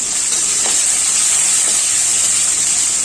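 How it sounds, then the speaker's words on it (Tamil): Small onions sizzle as they sauté in hot oil with mustard seeds for a chana dal sambar, a steady, loud, hissing fry with faint stirring and no talk. "அதோட ஒரு கப் சின்ன வெங்காயம் கட் பண்ணி வச்சுருக்கேன், ஒரு 150 கிராம் அளவு. இதை இதோடு சேர்த்து நல்லா வதக்கிக்கலாம்"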